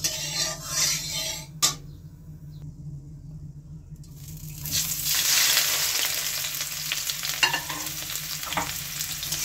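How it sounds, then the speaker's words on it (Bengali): Bitter gourds hit hot oil in a pan after a quieter stretch, and a dense sizzle swells from about the midpoint, broken by occasional utensil clatter. "তেলটা গরম হলে আমি করলাগুলি ভেজে নেব।"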